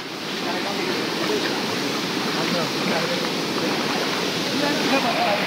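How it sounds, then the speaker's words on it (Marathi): A small waterfall on a trekking trail gives a steady, loud, broadband rush of falling water that stays constant throughout, with no breaks. "तर मित्रांनो हे पाहू शकाल हा मिनी वॉटरफॉल"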